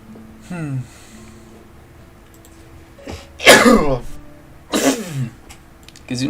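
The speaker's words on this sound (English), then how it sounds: "And a little bit of a sneeze there" One sharp, explosive human sneeze bursts out amid soft speech. Smaller breathy throat sounds come before and after it, all close to the microphone.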